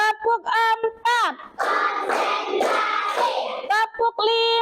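A classroom of children claps hands in a rhythmic patterned sequence, with brisk clapping bursts mid-clip framed by the class chanting along in unison.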